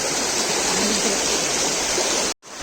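A forest stream in the Konkan countryside flows with a steady, full rushing hiss, close and loud, then cuts off abruptly for a moment before the water sound resumes.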